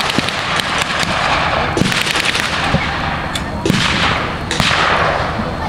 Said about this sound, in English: now they're getting counter battery fire from the Germans